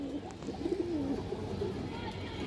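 A Kaldom pigeon coos in a low, wavering call near the middle, close and moderately loud over a dense murmur of background noise, with a voice talking faintly.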